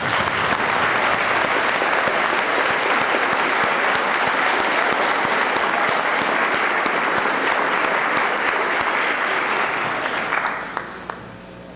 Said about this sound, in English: let's give them a round of applause for their great job.